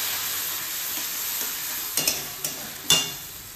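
Potatoes fry in a pan with ginger, chilli, tomato paste and ground spices, a low steady sizzle broken by a few sharp scrapes of a spatula stirring, with no talking.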